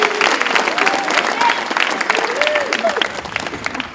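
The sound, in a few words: applause for a coach at a basketball camp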